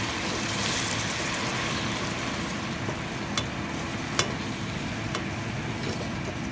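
Garlic and dark soy sauce being stirred in a pot over low heat: a steady low simmering wash with a few faint utensil scrapes and taps, no talking.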